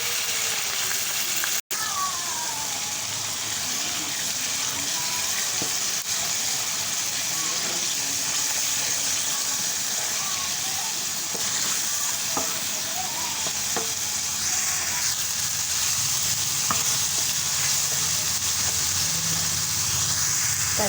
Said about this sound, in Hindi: मसाला मेरा भून चुका है